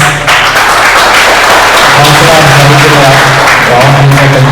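Loud applause from the audience at a college agriculture training closing ceremony, dense clapping filling the clip alongside a low steady hum and some background voices.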